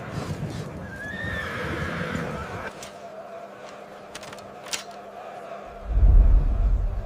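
Horses whinny and neigh as cavalry forms up to ride out, with a rising call early on, scattered hoof clops in the middle and a heavy rumble of hooves near the end, no voices.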